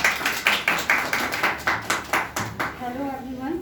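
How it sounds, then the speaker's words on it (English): Audience clapping in honour of Madhu, a series of sharp, fairly regular claps from a small group, close and moderately loud, with a voice starting to speak near the end. "clap for Madhu once again"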